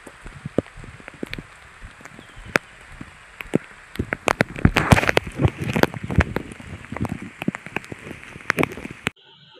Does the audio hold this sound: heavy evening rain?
yes